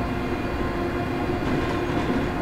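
ScotRail Class 385 electric train accelerating in Train Simulator, a loud steady cab rumble with rising motor hum and rail noise, continuous and close.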